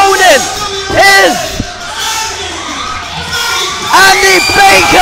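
A wrestling crowd cheering and shouting at a live match, loud and close, with rising whoops and swelling roars that come in waves and peak again near the end.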